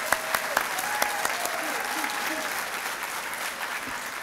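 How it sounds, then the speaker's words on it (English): An audience at the 2019 Next Step graduation ceremony breaks into sustained applause for the graduating class, a dense wash of clapping with a few sharper individual claps near the start and a brief whistle, gradually easing off. "give them a big round of applause"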